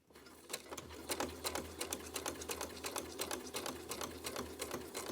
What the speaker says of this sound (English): put the needle down, and then I'm just gently sewing all the way down to the bottom